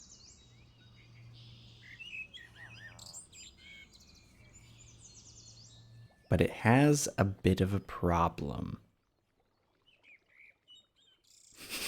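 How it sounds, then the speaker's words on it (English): Birds chirping in the rafters of a Minecraft build, from an ambient sounds data pack: scattered faint, high tweets over a low hum, then someone talks loudly before a brief silence and more quiet chirps. "Yeah, there's some birds in the rafters here."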